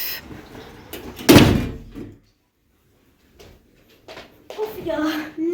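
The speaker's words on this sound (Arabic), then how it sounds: "لأفتح له الباب" A front door in a home is opened, with a sharp loud knock or latch clunk near the start, then a quiet pause before a voice and an adult talking close by.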